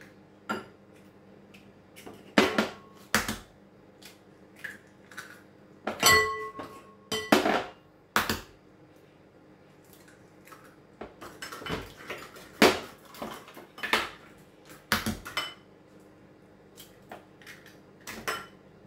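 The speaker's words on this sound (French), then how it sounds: "je vais venir casser 4 œufs" Four eggs cracked against a bowl in a home kitchen, sharp close taps and clinks in irregular bursts with short pauses between, nobody talking.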